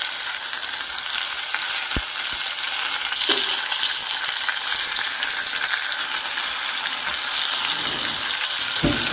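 Mackerel braising in a small pan and being turned: a loud, constant bubbling sizzle with a couple of sharp utensil knocks against the pan, no talk.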